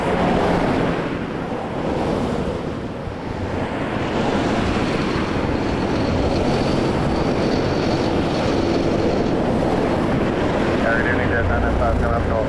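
Air Transat Airbus A321neo, flight 232 bound for Faro, lining up and departing on runway 24 right at Toronto Pearson, a loud continuous engine rush heard from nearby, with a faint rising tonal whine late on.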